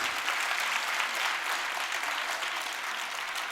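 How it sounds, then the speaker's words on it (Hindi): Steady applause from an audience at a dance-drama stage show about Sri Ram, a dense, even wash of clapping holding throughout without voices. "और तालियां बजनी चाहिए।"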